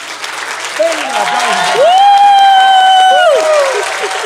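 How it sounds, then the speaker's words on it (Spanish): A studio audience on a podcast applauds and cheers for a guest doctor; a rising vocal whoop rings out over the clapping and a long sustained cheer holds loudly before tapering off. "Un aplauso a Samar Yorde."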